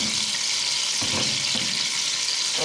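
Browned onions go into a pot of lobia (black-eyed pea) daal, giving a steady sizzle and frying hiss with a few soft stirring knocks.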